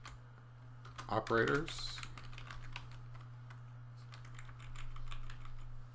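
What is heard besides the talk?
typing on a computer keyboard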